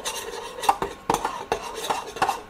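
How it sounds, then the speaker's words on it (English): A spoon stirring Dijon mustard, brown sugar and balsamic vinegar together in a pan on a cooktop, making four or five rhythmic scraping strokes with soft metallic clinks, close and fairly loud, with no talking. "stir that all in together"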